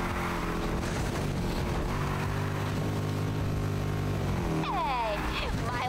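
A V8 car engine in the Need for Speed Heat racing game drones steadily with shifting harmonic tones, rising into a sharp rev near the end, loud and continuous under a talking voice.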